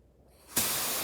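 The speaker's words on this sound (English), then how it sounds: "figured I'd get y'all a little more footage of spraying these." A spray can hisses onto truck door handles for a 6.0 Powerstroke, starting faint and then bursting into a loud, steady close-up spray that holds to the end.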